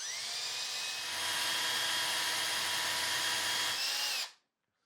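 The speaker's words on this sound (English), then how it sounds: "I'm gonna take my drill now, and I'm gonna place it into the hole," Power drill whines steadily for about four seconds as it drills out a hole in a door, loud and close, then cuts off abruptly.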